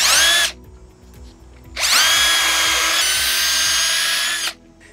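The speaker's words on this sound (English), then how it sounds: "I'm going to mark the bottom hole and run a screw in there" A power drill drives a screw into a handrail post for an aluminum handrail with side mount posts, with a short whine, a pause, then a longer steady whir of about three seconds.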